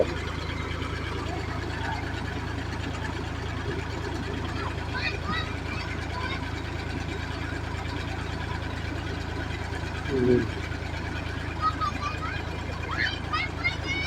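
An engine-driven water pump drains a pond, giving a steady low droning hum that runs unbroken throughout at moderate closeness, with faint background activity and a brief thump near the end.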